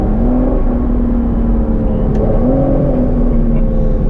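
An Aston Martin GT12's V12 engine pulls hard under acceleration as a continuous loud, close drone, with a slight dip and a rise in pitch around a gear change midway, and no talking.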